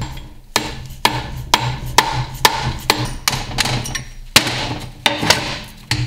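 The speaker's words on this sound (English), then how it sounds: "drive the intermediate shaft outwards towards the rear of the case with a soft drift and hammer." Sharp metallic hammer blows with a soft drift drive the intermediate shaft out of a Dana 20 gearbox case, about ten strikes spaced roughly half a second apart, close and loud with ringing decay.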